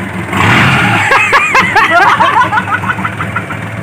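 A Mitsubishi Canter racing truck fitted with a turbo and stainless exhaust revs loudly up close, its engine note rising and falling in repeated surges with a turbo whine.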